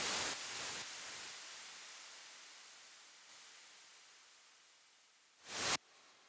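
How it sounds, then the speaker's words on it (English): White noise swooshes in a melodic techno track: a long, loud broadband hiss that fades slowly over several seconds, then a sharp, short noise swell rising near the end and cutting off abruptly. "And afterwards I just created some interesting swoosh sounds with white noise."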